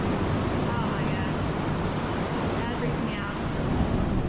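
Ocean waves wash and roar continuously inside a sea cave at Playa Ventanas as the tide comes in, a dense, loud broadband rush with wind buffeting the microphone.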